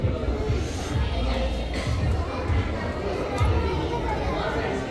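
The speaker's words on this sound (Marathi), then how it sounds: "खूप गर्दी आज" Busy crowd chatter fills a packed theatre entrance before a musical show. A steady, dense babble of many voices comes from all around, with one nearer voice talking over it.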